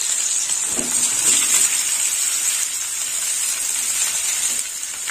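Boiled, drained jackfruit sizzling steadily in a hot pan, a continuous bright frying hiss with occasional stirring clatter, close and alone with no talk.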